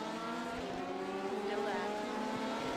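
LMP prototype race cars in the iRacing game at the 24 hours of Daytona produce a sustained high-revving engine drone with shifting pitch, heard steadily at moderate loudness.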